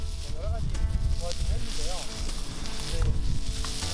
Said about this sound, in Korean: 장작불에 고기 굽는 소리가 식욕을 자극합니다.